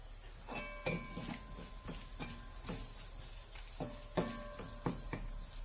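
Peppers and onions frying in a pan: a constant soft sizzle with regular scraping and clinking stirs about every half second, fairly faint and close, with no voices.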